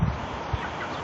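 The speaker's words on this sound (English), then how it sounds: "Got chickens inside." Chickens inside a wire-framed coop give a brief burst of low clucking, close and clear, over a faint background hum.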